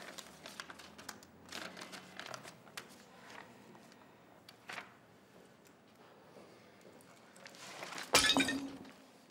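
Glass falling and shattering in an indoor home scene, a sudden loud crash with scattering shards after several seconds of quiet rustling and small movements, no talk.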